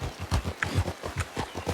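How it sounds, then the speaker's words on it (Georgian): Horse hooves clip-clop in a video game, a steady run of evenly spaced thuds at a brisk trotting pace, moderately close, with faint talk in the background. "ეს აჯიშის ცხენი არის"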